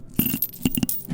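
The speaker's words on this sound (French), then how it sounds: "C'est l'argent qui tombe sur tes oreilles." Coins dropping for an ASMR session: a short run of small metallic clinks and taps, close and fairly soft, several separate impacts scattered over about a second.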